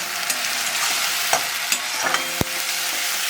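Onion paste sizzling in hot oil as it is stirred for a crab curry, a steady close frying hiss broken by several sharp clicks and scrapes of the spatula against the pan.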